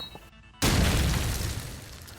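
A grenade explodes in Call of Duty 4 ProMod on the Strike map: a brief hush, then a sudden loud, close blast whose heavy rumbling tail fades slowly.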